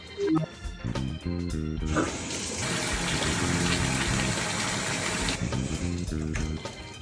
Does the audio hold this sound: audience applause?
no